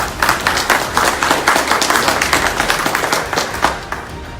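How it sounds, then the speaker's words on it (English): Audience applause at a Republican executive committee meeting, a room of people clapping in a brisk, fairly rhythmic patter, moderately close and steady throughout. "I think that's worth a round of applause."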